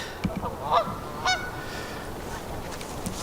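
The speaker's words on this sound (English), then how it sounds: "Some geese just fly in." Geese flying in to Stoevers Lake in winter honk a few times at moderate distance over a constant rushing, windy background, the calls brief and scattered.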